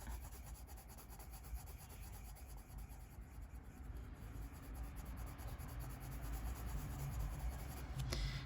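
A ginger colored pencil burnishes a colouring-book page with steady, soft, scratchy rubbing strokes. The sound is very quiet and close, continuous, with no voices.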